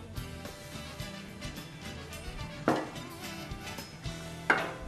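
Flour being stirred into a gumbo roux: soft, steady scraping and sloshing in a pot, broken by two sharper clanks of the spoon against the side, close by and with no talk.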